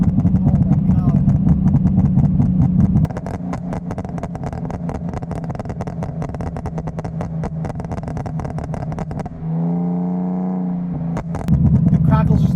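A BMW E46 with a Revmatch stage 3 tune, its exhaust popping and crackling in a rapid, continuous stream of sharp bursts over the engine's drone, loud and close, with a voice talking over part of it.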